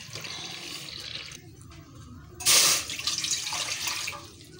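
Water runs and splashes into a cooking pan (kawali) for a steamed banana pudding, a steady close trickle with a brief louder gush midway.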